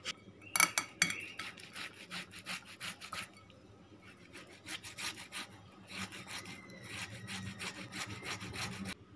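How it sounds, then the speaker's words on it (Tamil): Boiled potatoes are grated by hand, giving quiet, rhythmic rasping strokes that come in uneven runs, soft and close with no voices. "நம்ம இப்போ எல்லா உருளைக்கிழங்கையும் துருவி சைடில் எடுத்து வச்சிடலாம்"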